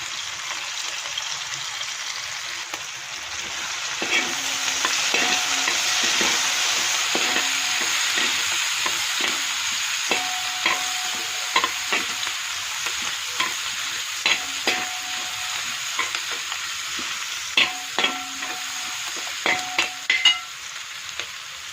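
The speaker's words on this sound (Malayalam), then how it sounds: "സവോള നന്നായിട്ട് മൂത്ത് വന്നിട്ടുണ്ട്" Onions, ginger and spices frying in the leftover oil from fried fish for a fish molee, a continuous close sizzle with repeated spatula scrapes and clinks growing more frequent toward the end.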